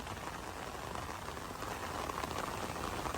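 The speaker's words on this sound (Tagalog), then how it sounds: "Malakas na ulan dito sa Dolomite Sand." Heavy rain pours steadily at Dolomite Sand beach, a dense, continuous hiss of drops striking the sand and surface, constant and moderately loud throughout with no voices.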